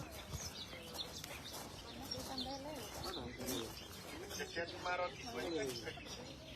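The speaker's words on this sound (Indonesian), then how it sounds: "Suara burung." Birds call and pigeons coo outdoors in Galilee, faint and scattered, mixed with voices and ambient noise.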